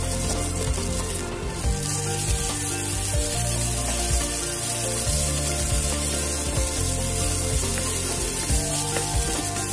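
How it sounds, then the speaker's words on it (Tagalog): Ginger and garlic frying in olive oil, a steady continuous sizzle close by with no talking, broken only by a brief sharper burst early on. "Fry lang natin ito ng 14 minuto."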